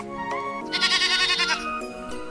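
A white toy sheep gives one loud, close, wavering bleat in the middle, framed by softer tonal electronic notes before and after, with no voices.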